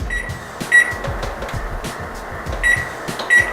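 An oven is set to preheat to 375, giving a few short electronic beeps spaced apart over a steady background hum, with no one speaking.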